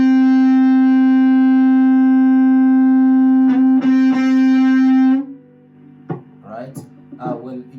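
An electric guitar through distortion holds a loud, sustained buzzing chord with unmuted strings ringing, cut off after about five seconds, followed by faint string noise and someone speaking.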